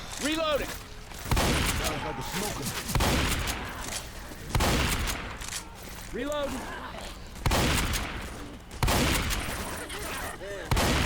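Assault rifle gunfire in Left 4 Dead 2, coming in repeated loud bursts of rapid shots across the clip, with a voice talking between and over the volleys.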